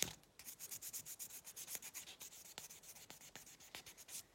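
A nail buffer polishes a fingernail to a shine, making quiet, close, rapid back-and-forth rubbing strokes in a regular rhythm with no talk.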